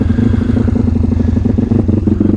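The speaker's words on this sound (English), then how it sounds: "going to get back out for a decent run, see what these pit bikes are capable of." An M2R RF160 road-legal pit bike engine runs steadily while being ridden, a loud, close, continuous mid-pitched motor drone with a rhythmic pulsing beat throughout.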